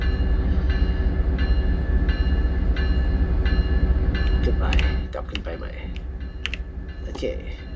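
Baby Bullet train arriving at a station in Train Sim World 2020, a steady heavy rumble that settles around the five-second mark, followed by scattered clicks and light taps.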